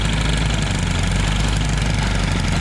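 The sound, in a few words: tractor engine running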